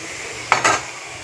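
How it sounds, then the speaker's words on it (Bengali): Fried pointed gourd and potato pieces being dropped into a pan of spiced prawn masala, two quick clattering thuds close together over a faint sizzle. "এবার দিয়ে দেবো পটল আর আলু"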